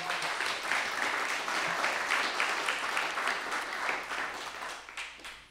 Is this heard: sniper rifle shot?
no